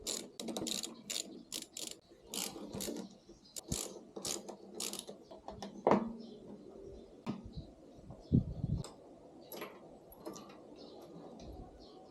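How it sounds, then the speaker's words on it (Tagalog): Ratchet wrench with a 10mm socket clicking repeatedly on a CFMOTO 450SR motorcycle during tank removal, a close series of quick, irregular clicking bursts with a few louder knocks and no talk. "Una, kailangan natin is 10mm socket."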